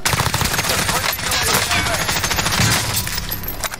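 Rapid bursts of automatic gunfire in the video game Call of Duty Warzone on the Alcatraz map, loud and close, crackling continuously over the whole stretch with dense, overlapping shots.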